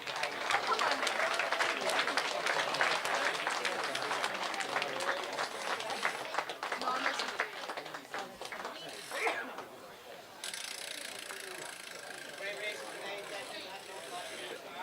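An audience at a cycling Champion of Champions event applauds, a dense, crackling clatter of many clapping hands that stays strong for several seconds, then thins and fades into quieter crowd murmur.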